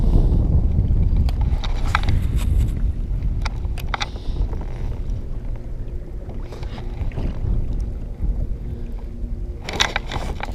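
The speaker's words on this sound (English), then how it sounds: "This wind will only help the bite." Wind blowing over open water during late-fall bass fishing from a boat, a continuous low rumble of gusts buffeting the microphone, with occasional small knocks and splashes against the hull, close and fairly loud without speech.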